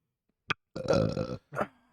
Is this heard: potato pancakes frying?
no